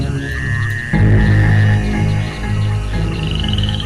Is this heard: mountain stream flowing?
no